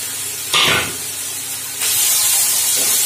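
Onion and garlic paste is dropped into a hot pan, with a sudden sizzling hiss that fades and then swells into a steady, loud frying hiss heard close up.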